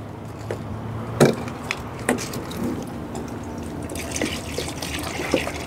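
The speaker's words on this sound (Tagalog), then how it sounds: "So dagdagan ko na lang din ng tubig to dahil naubos na." Water poured into a basin used for foot washing, with trickling and dripping splashes, a few sharper impacts, close and moderately quiet throughout.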